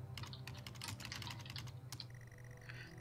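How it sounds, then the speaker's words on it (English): Rapid computer keyboard typing in the Stories Untold video game (The House Abandon), a quick run of close, crisp keystrokes over a low ambient hum, followed by softer electronic tones. "The game is quite helpfully giving us typing sounds"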